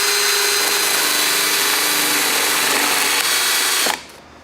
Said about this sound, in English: Drill through your metal.